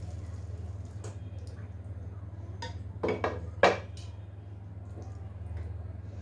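A cooking pot of hilsa fish head and bottle gourd curry is lifted off the stove, giving a few metallic clanks and scrapes clustered together over a steady low hum.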